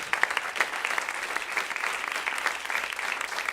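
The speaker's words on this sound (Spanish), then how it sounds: "Un fuerte aplauso de nuevo" A church congregation claps warmly for a group of women, a sustained wash of hands at moderate distance with no speech over it.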